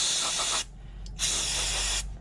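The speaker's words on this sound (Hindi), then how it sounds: "जब इस क्लीनर का स्प्रे देंगे तो वो भी बहुत ज्यादा प्रेशर से नहीं देना है" Cleaner from an aerosol can sprayed onto a car's MAF sensor, two firm hissing bursts separated by a short pause, close and loud.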